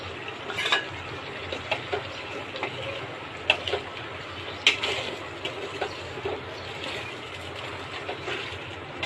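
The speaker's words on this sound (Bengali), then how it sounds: "আলু দিয়ে আরও কিছুক্ষণ কষিয়ে নিব" Meat and potatoes sauté in a pan with a soft sizzle under frequent spoon scrapes and clinks against the pot, close by, in irregular bursts and with no talking.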